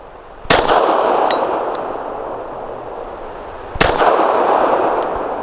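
Two sharp shots from a Taurus GX4 micro compact pistol fitted with a ported barrel and loaded with heavy bullets, about three seconds apart, each a loud crack followed by a long ringing outdoor echo.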